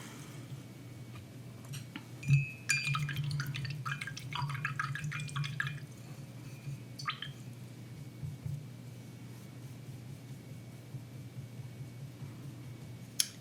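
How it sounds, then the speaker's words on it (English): Paint brushes rinsed in a container of water, a few seconds of close swishing, dripping and clinking against the rim, then quiet with occasional small taps and drips. "Wash my brushes real quick."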